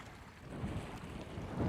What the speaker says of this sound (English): It's kind of windy out today